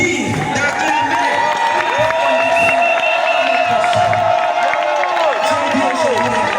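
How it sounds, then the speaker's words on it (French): Crowd at an official ceremony in a public service setting applauds and cheers steadily and loudly throughout, with whoops and voices rising over the continuous clapping. "je demande à tout un chacun d'applaudir, d'acclamer"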